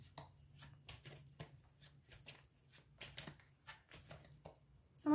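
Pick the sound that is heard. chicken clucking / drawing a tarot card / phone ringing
drawing a tarot card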